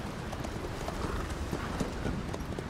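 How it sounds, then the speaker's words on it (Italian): Horse hooves clip-clop steadily in Metal Gear Solid V: The Phantom Pain, riding through northern Kabul, Afghanistan, a fairly quiet, even trotting rhythm with faint background sound. "stiamo sui cavalli"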